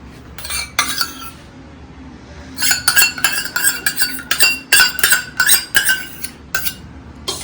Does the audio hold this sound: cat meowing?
no